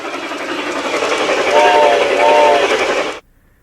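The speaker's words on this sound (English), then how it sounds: "Today we go back and see Conrail work the main line." A Conrail train rolls along the Pittsburgh Line main line, a loud continuous rumble and roar with a brief horn-like tone midway, ending abruptly after about three seconds.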